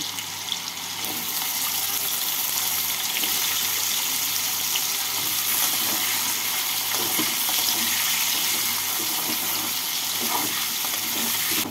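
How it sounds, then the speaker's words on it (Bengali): Cut potatoes fry in oil spiced with white cumin in a pan for thor ghonto, giving a steady, dense sizzle and crackle with occasional stirring, close by and with no voices. "আলুগুলোকে দিয়ে আলুগুলোকে লাল করে ভেজে নেব।"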